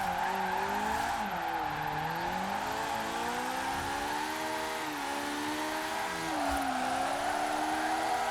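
Engine revving hard in a 300-horsepower high-revving car in the Forza Horizon 4 racing game, a loud continuous wail rising and falling through gear changes with tire skid noise mixed in, no talking.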